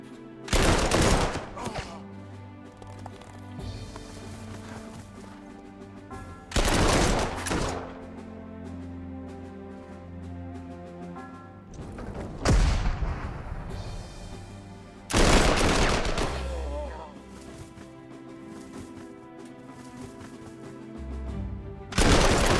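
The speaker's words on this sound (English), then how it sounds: "Old 70 mil artillery. It sucks." Old 70 mm artillery pieces fire in the Panzer Corps 2 war game, heavy booming volleys landing every few seconds, each a sharp loud blast with a crackling tail, separated by quieter rumbling gaps.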